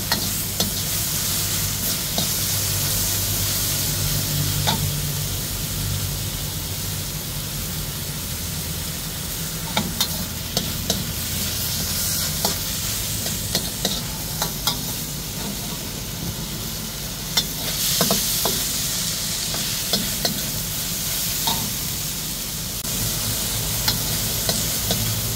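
Sardines stir-fried with string beans and cabbage in a pan, giving a steady sizzle and frying hiss with scattered scraping clicks of stirring throughout, close and continuous with no talking.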